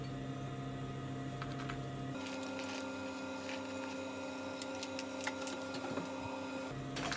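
A sewing machine runs steadily while stitching a curtain tie-back, a close continuous mechanical hum and rapid needle clatter that starts partway through and stops near the end.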